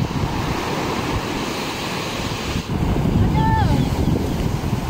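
Sea waves wash and churn around a small boat crossing open water ahead of a storm, with steady broadband surf and wind rumble throughout and a brief whistling tone near the end.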